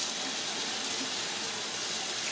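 Hot water runs steadily from a kitchen tap into a sink, a constant close rushing hiss with no pauses and no talk.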